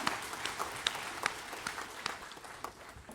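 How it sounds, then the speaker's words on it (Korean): A church congregation at a Korean Sunday worship service gives a round of applause, a soft, moderately distant patter of many hands clapping steadily throughout. "모든 영광의 박수를 하나님께 드리겠습니다"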